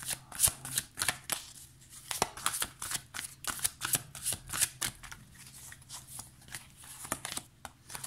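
Angel tarot cards being shuffled by hand, a steady run of crisp riffling and flicking bursts that repeats for several seconds, close and clear with no talk.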